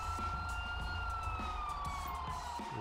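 Wailing ambulance siren in the video game GTA 5 Liberty City, a loud continuous tone sliding slowly downward over a low rumbling vehicle engine.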